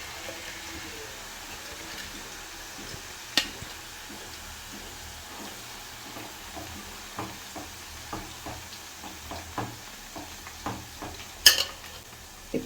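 Gunta garagara herbal leaves frying in oil for homemade hair oil while a spoon stirs them: a faint, continuous sizzle under a run of light, irregular spoon clinks and scrapes, with a couple of sharper knocks.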